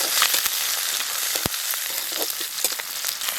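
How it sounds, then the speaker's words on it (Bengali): Onions hit hot mustard oil in an iron kadai, giving a loud, steady sizzle with sharp crackles and pops throughout. "কড়াই গরম হয়ে গেছে, এখন সরষে তেল দেব। তেল গরম হয়ে গেছে, এখন পেঁয়াজ দেব।"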